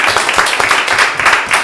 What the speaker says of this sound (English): We'll give a round of applause to Jim for his service.